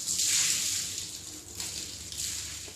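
Car wash mitt dunked and swished in a rinse bucket during a two-bucket wash, soft sloshing and trickling water close by with no talking.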